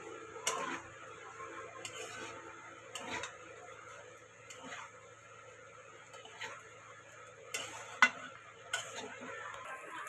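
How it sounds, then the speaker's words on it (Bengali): Pasta cooking in a pan is stirred with a utensil, giving sparse clinks and scrapes against the metal at irregular intervals over a quiet background, close but faint. "একবারে নেড়ে নেব সব দিয়ে"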